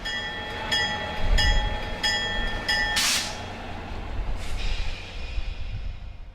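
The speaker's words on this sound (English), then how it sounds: "The Napa Valley wine train chugs past" The Napa Valley Wine Train passes close by with a few loud horn blasts over a continuous rolling rumble of wheels and engine, then a sharp hiss of released air.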